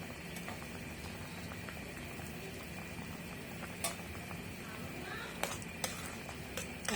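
An egg and potato curry with fried eggs and coriander leaves simmers quietly in a pot, a faint, steady bubbling broken by a few sharp clinks of utensils.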